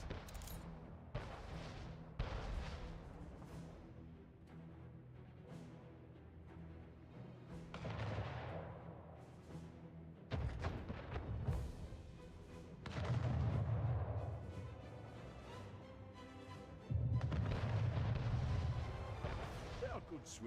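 Ships fire their cannons in the strategy game Anno 1800, a series of distant booms and scattered blasts rolling out over several seconds, while a voice talks over the battle.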